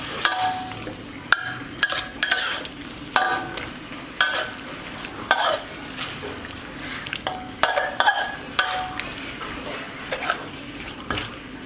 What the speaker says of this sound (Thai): เราจะผัดให้เนื้อหมูเปลี่ยนสีเล็กน้อยก่อนนะครับ